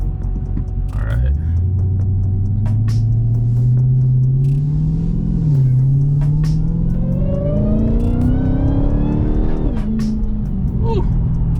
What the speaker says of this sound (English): I'm gonna get on the gas once I turn this corner over here.